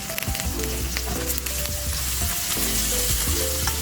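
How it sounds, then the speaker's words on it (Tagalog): Pork belly dropped into a hot pan with tofu, spitting and sizzling loudly up close while a utensil scrapes and stirs, over a steady low hum and without speech. "Guys, pwede na natin yung ilagay yung ating pork liempo."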